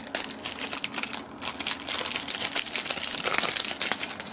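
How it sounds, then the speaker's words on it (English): Plastic shrink wrap is peeled and cut away from a Nintendo Switch game case for Pokemon Let's Go Pikachu, giving close, continuous crinkling and crackling with sharp rustles and no talk. "So let's remove the plastic wrap."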